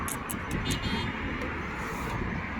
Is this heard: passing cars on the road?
yes